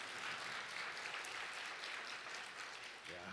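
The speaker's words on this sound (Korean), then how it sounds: "박수 한번 쳐주세요." Church congregation applause after a worship song: a steady wash of many hands clapping, fairly distant and even throughout, with a faint voice emerging at the very end.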